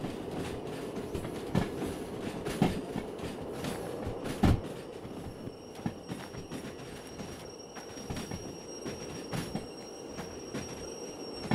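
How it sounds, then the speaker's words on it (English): A heavy train rolls along the rails with repeated clickety-clack wheel thumps and metallic clanks over a constant rumble, loud and close, carrying on steadily with no talk. "Heavy train."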